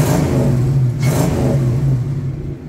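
A 1981 Chevrolet C10 pickup with a 454 big block V8, automatic transmission and custom exhaust revs loudly close by, its deep engine note swelling and easing in a sustained rumble with no talk.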